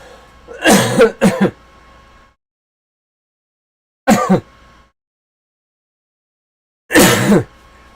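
Three separate bouts of harsh throat-clearing coughs, a double one first, then a single, then another, with silence between them.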